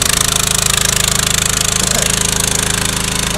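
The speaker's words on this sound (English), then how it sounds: "I don't know if that engine's quite big enough to push that pump. I mean, that is full throttle right there." Engine on a floating dredge driving a new pump through a new intake system, run at full throttle: a loud, steady, fast-pulsing mechanical drone with knocking harmonics, close and continuous throughout.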